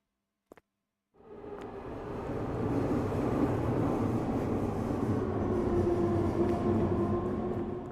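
A train, on a line whose service looks normal, rumbles steadily past close by, building quickly after a couple of faint clicks and holding a loud, even roar with a low hum to the end.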